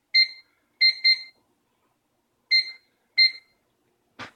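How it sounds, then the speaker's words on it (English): A kitchen timer set for poaching eggs beeps in short electronic bursts, single and doubled, separated by silence, followed by a brief click at the end. "And then I'm going to set my timer."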